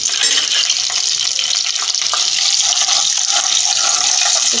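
Garam masala being stirred in a frying pan while cooking biryani, a bright continuous sizzle with scraping strokes of a spoon, close and loud, with no talking.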